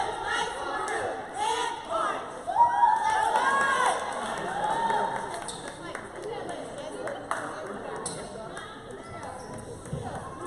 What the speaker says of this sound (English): Love to see the cheer squad.